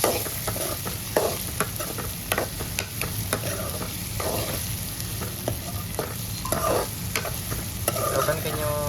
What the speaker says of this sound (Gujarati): તો કન્ટિન્યુ એક ધારો હલાવી જ રાખવાનું છે આપણે, કેમ કે ન હલાવી તો પછી છોટી જાય.